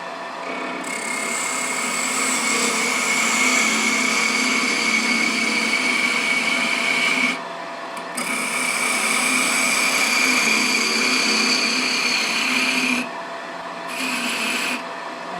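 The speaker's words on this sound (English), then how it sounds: "I'll just use a peeling cut to take that down with a skew" A skew chisel makes a peeling cut on wood spinning on a lathe for a DIY bird feeder part. The loud, steady shearing whir continues with two brief breaks where the tool lifts off.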